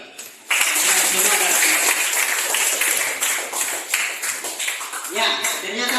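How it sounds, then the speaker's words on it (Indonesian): Applause in a classroom as students clap together for a group, a brisk burst of many hands that fades unevenly toward the end. "Oke. Aplaus dulu."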